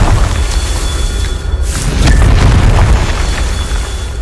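Confringo blasting spell going off in Hogwarts Legacy, a broad rumbling boom of explosions with bursts and crackle sustained through the whole stretch, loud and close.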